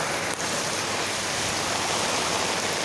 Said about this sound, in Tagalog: Grabe kakulong sa ulan namo diri